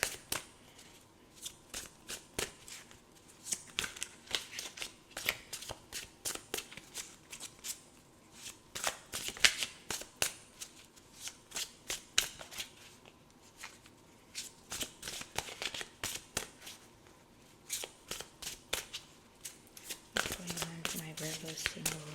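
Tarot cards shuffled by hand at close range, making rapid, crisp riffling bursts that repeat steadily throughout, with a low voice briefly near the end.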